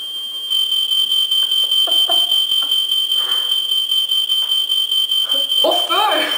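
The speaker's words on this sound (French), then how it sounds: "mes détecteurs de fumée chez nous, ils détectent aussi la chaleur" A home smoke detector set off by the heat of a curling iron, sounding a loud continuous high-pitched alarm tone while a person talks and moves nearby.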